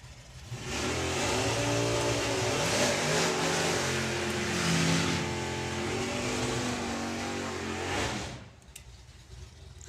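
Two drag racing cars, an Oldsmobile and a Pontiac, launch and accelerate hard down the strip together at a VW drag event, a loud sustained engine roar for about eight seconds that then cuts off sharply.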